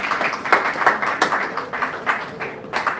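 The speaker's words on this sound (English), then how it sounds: "A big round of applause for you all." Audience applause for candidates at a spring elections results night: a sparse, uneven patter of separate hand claps at moderate volume, with no voices over it.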